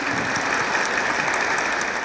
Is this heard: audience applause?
yes